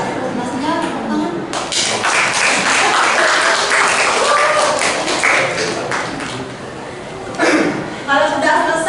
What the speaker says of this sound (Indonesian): Presentasinya tepuk tangan